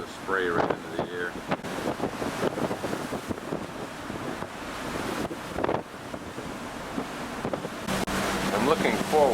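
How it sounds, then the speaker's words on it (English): Strong wind buffets the microphone while sea waves surge and break against a rock near Cape Horn, a rushing roar with bursts of spray. Voices are faintly audible beneath the wind. "once in a while a wave will hit it, and the wind, which is blowing from left to right, will just whip that water right into the air"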